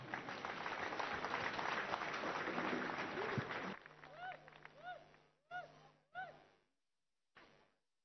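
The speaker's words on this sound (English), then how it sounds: "Let's clap for wonderful Jesus." A church congregation claps together during a Sunday service, a dense wash of applause that gives way to short bursts of speech, with the clapping thinning and stopping before the end.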